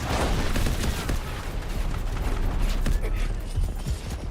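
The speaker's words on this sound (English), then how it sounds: "Grenade launch!" Grenade launcher fire in the video game Delta Force, dense explosive bursts and gunfire crackle sustained throughout, loud and busy under a voice talking over the action.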